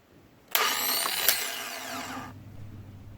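A car starter motor spins on a bench test under normal operation, a loud whirring burst lasting under two seconds with a sharp click at the start and middle, then a fading low hum.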